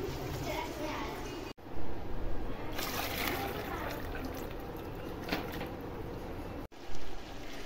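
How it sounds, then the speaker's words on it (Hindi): Soaking water is drained off soaked chana dal, a steady splashing trickle heard close up with a couple of brief louder knocks, while someone talks over it. "अब मैं इसका पानी फेंक दूंगी सारा"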